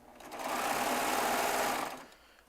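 A Baby Lock Triumph serger sewing machine runs at a steady high-speed whir. The sound builds in, holds strong and continuous, then winds down near the end.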